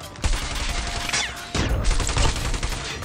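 FR .556 assault rifle firing in Call of Duty Mobile, with rapid, dense automatic gunfire loud and close, broken by one brief pause before the burst resumes.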